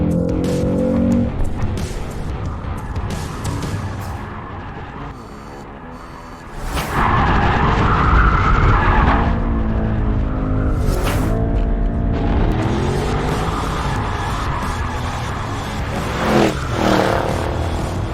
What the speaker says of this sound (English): This is the easiest car I have ever slid around.